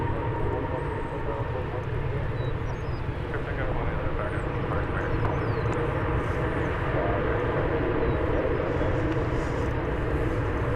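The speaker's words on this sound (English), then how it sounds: "It's a 20-year-old 777-200ER." A twenty-year-old Boeing 777-200ER airliner arriving from Los Angeles gives a loud, steady jet engine roar that fills the whole stretch at even strength, with no clear talk over it.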